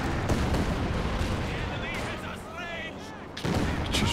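An artillery barrage in Company of Heroes 2, a 2v2 Soviet versus Axis match: booming impacts and rumbling fire layered under ongoing commentary, with a heavy burst of shelling returning near the end.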